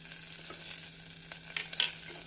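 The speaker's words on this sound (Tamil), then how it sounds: "சின்ன வெங்காயத்தை போட்டு வதக்க வேண்டும்." Shallots, curry leaves and green chillies sauté in hot oil for a radish sambar. A soft, steady sizzle runs throughout, broken by a few faint stirring scrapes near the end, with no talking.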